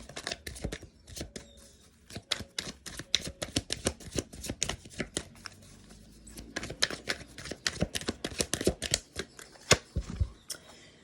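Tarot cards are shuffled by hand in a long run of quick, crisp riffling snaps and soft slaps, close and fairly quiet, with short pauses between bursts.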